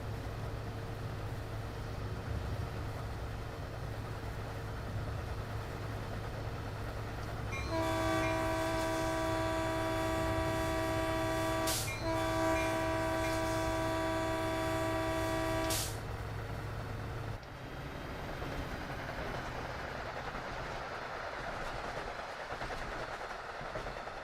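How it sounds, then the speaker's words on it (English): A train in Train Sim World 6 on the modded Oakville Sub timetable, with a steady low rumble of rolling on rails throughout and a loud sustained horn blast sounding for several seconds in the middle, no talk. "This is the train with square wheels again by the sounds of it."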